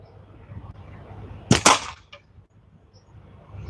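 A single sharp gunshot rings out while plinking at a can outdoors, a close crack with a short tail and a quieter follow-up, then low background hiss.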